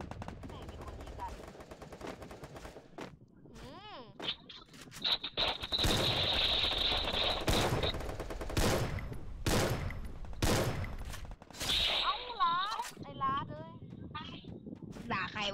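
M14 rifle fire in the online shooter game Free Fire: loud, rapid bursts of gunshots come in repeated volleys with brief pauses, alongside a person talking.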